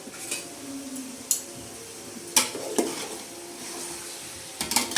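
A pot of spicy biryani with turmeric added is stirred at close range. A soft sizzle runs underneath while a few distinct scrapes and clinks of the spoon against the pot come at irregular intervals.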